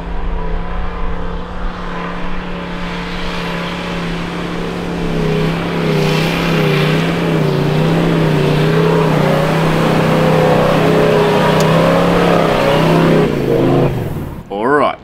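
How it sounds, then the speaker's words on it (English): V8 Toyota Land Cruiser driving off-road on a Hilux shakedown trip, its engine humming steadily and rising in pitch as it pulls along, loud and close for about fourteen seconds before cutting off. "Torben's turn to show us how it's done in his V8 Land Cruiser."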